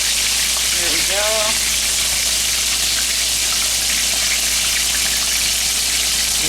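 Chicken fries in a cast iron skillet with a steady, close sizzling hiss that runs unbroken throughout. A few brief tonal voice-like sounds rise over it near the start.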